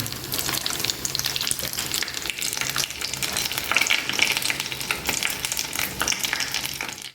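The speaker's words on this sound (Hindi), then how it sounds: "दूसरी साइड से भी फ्राई कर लेंगे इसे।" Pizza cutlets shallow-frying in hot oil, turned to cook the second side, give a loud, steady crackling sizzle that fills the whole stretch without pause and with no voices over it.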